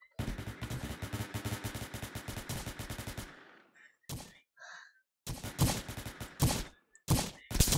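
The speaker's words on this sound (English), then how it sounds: "I heard gunshots." Video game gunfire: a long rapid machine-gun burst, then a pause, scattered single shots and more short bursts, loud and close.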